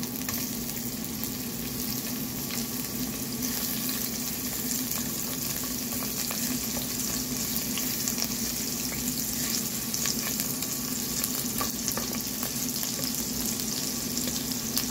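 Ginger frying in hot oil in a pan gives a steady, dense sizzle that crackles continuously for the whole stretch. No one speaks over it.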